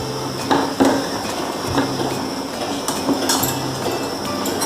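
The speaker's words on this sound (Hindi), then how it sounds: "हम यहाँ चीनी डाल देंगे और चीनी घुलने तक इसको अच्छी तरह मिक्स करेंगे।" A spoon stirs sugar into vermicelli kheer with almonds in a pan, producing repeated metallic scrapes and clinks against the pan in an irregular rhythm, close and fairly loud.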